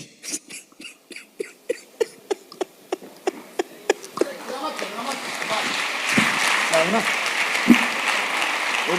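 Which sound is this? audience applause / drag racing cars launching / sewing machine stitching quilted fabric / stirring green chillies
audience applause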